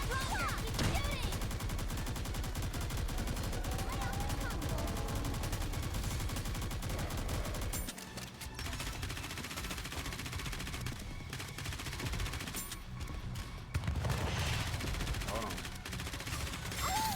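Sustained rapid gunfire from the shooter game Goddess of Victory: Nikke, with dense, continuous bursts broken by a couple of brief lulls. A voice speaks briefly over the shooting.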